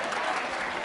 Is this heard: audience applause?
yes